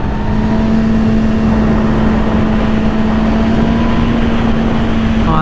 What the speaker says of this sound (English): Oh, I love the sound of this bike.